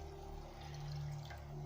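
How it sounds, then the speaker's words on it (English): Water pours into a pan of chili beans in a short, quiet trickle over a steady low background hum. "Now we're going to add some water"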